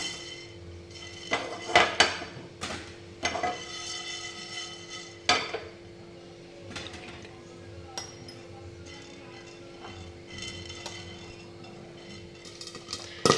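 Jowar grains popping in a lidded nonstick pan that is shaken over the gas, heard as scattered sharp clinks and knocks against the metal, some in quick clusters, with quieter stretches between and a faint steady hum underneath.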